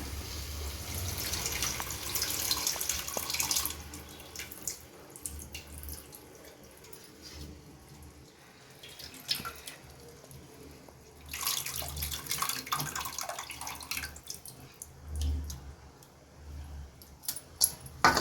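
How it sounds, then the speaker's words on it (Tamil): Water poured into tamarind to dissolve it for a sankara fish curry in a home kitchen: quiet splashing and trickling in bursts, with occasional clinks and soft handling noises between pours. "இப்போ இன்னும் கொஞ்சம் இந்த புளிக்கு தண்ணி சேர்த்து க நம்ம கரைச்சி ஊற்றிக்கலாம்"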